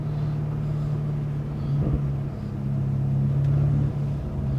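BMW M5 on its stock exhaust cruising along a winding mountain road with the windows down, a steady low engine drone with a slight swell in the middle, close and continuous inside the cabin.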